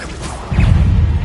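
A Depulso spell cast in Hogwarts Legacy sends out a loud whooshing rush that swells into a heavy, rumbling low blast and keeps roaring through the short moment, with no voice over it.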